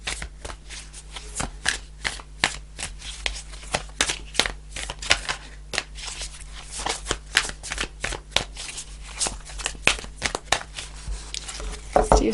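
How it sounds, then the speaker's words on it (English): Tarot cards are shuffled by hand, with rapid crisp riffling slaps and flutters repeating in quick irregular bursts, close and fairly quiet against a faint steady hum. "Let's do some more shuffling."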